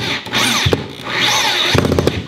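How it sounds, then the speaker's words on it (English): A power drill driving screws into a wooden climbing hangboard during installation, whirring in two sustained bursts with a brief pause and stuttering at the end, close and loud. "So what I do is I start off with the power drill"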